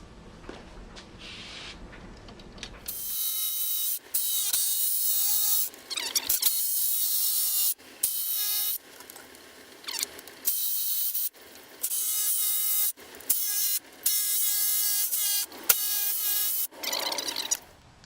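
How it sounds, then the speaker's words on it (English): A jigsaw cuts through wood for a feather board, its high buzzing whine running in loud, steady bursts broken by short pauses, with the pace sped up. "Okay, here we go with some jigsaw cutting"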